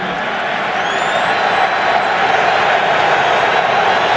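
A sold-out crowd at Foxborough during a Detroit at New England NFL football game in 2006, a dense, steady roar of many voices filling the stadium throughout, with a faint whistle-like tone drifting above.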